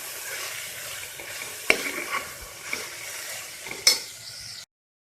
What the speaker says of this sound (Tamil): அதை நீங்கள் நல்லா வதக்கிக்கோங்க.